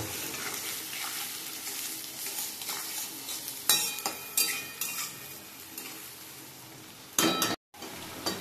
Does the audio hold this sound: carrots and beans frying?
yes